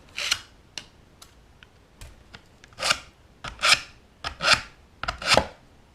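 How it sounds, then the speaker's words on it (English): A rasp scrapes a sharp cut edge in a handful of short, separate strokes, close by, with quiet gaps between passes. "So I found it easiest to just use a rasp or a file and do a few passes just to soften it up a little more."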